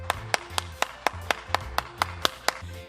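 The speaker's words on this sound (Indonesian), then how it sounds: "Tepuk tangan dulu dong buat Tuhan Yesus." Children clapping hands in a steady rhythm during a Sunday kids' worship session, about a dozen crisp, evenly spaced claps, close and clear, with a faint tonal hum underneath.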